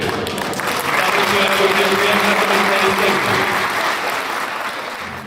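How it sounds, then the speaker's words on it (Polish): A crowd applauds steadily for several seconds at an Easter breakfast gathering, dense clapping filling a room, fading slightly toward the end. "największe i najserdeczniejsze powitania i brawa należą się naszej Elżbiecie"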